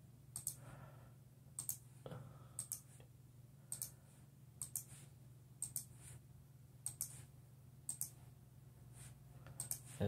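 A computer mouse clicks while a cell phone case is modeled in FreeCAD. The clicks are faint, crisp and come in a steady, fairly regular rhythm, often in pairs, over a low hum with no talking.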